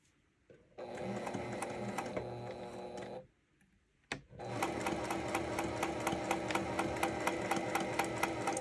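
Sewing machine back stitching a 1/4 inch seam forward and backward at normal stitch length, with a rapid mechanical chatter that runs, pauses after about three seconds with a brief click, then resumes steadily, close and clear.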